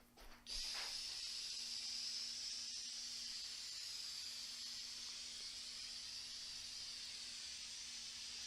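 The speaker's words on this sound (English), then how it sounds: "I'm going to take the 847 spray adhesive and apply it to the drywall on both sides of the corner" 847 spray adhesive hisses steadily from an aerosol can onto drywall at a corner, continuous for several seconds after a brief start, close and fairly loud, with a faint low hum underneath.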